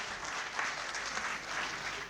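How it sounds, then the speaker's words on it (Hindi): Audience applause at a poetry gathering, a steady wash of many hands clapping that carries on evenly throughout. "ज़रा ताली बजा के मुझे बता दीजिएगा।"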